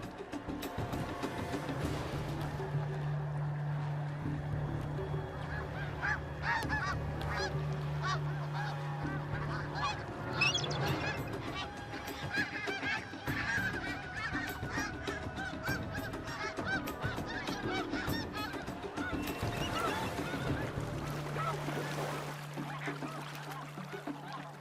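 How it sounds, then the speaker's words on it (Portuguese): A flock of snow geese honks continuously in a dense, overlapping chorus, with many harsh calls layered at varying distances. "O ganso das neves tem manobras de fuga espetaculares."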